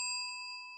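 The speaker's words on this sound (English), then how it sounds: "You get a bell for that." A single bright ding from a small bell, struck once near the start and ringing on with a steady, slowly fading tone, close and clear with nothing else around it.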